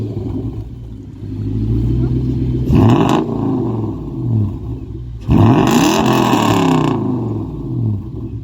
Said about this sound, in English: Exhaust tips change the sound of engines.